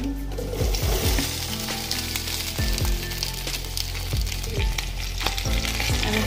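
Boiled potatoes cut into small pieces drop into a hot pan of oil with turmeric and asafoetida, sparking a loud steady sizzle and frying crackle, with a few knocks and scrapes of a spoon along the way.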